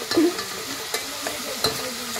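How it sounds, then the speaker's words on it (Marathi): Ginger garlic paste going into a hot frying pan with tomatoes at an outdoor camp kitchen, giving a steady soft sizzle broken by a few stirring scrapes, close and moderate. "आता ह्याच्यात जातोय अद्रक लसूणची पेस्ट।"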